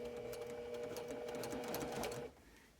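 A sewing machine runs steadily, stitching a curved quilt seam for a country-style pieced block, then stops abruptly near the end, with no talking.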